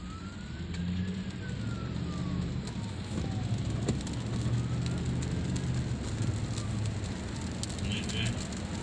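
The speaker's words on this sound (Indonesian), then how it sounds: "Kota Al-Khobar, Dammam, Saudi Arabia, diguyur hujan udah 2 hari 2 malam ya." Steady rain pours over Al-Khobar, Saudi Arabia, a continuous even hiss mixed with distant traffic rumble and a faint passing siren.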